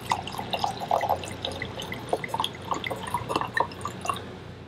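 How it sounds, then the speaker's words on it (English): A glass of Dog Blue is poured at a seaside table after a day of fishing, giving faint trickling and dripping with small clinks over steady background noise, no voices. "Pour us a nice glass of our dog blue"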